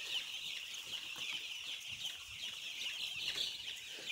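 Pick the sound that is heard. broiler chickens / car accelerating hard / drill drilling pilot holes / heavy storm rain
broiler chickens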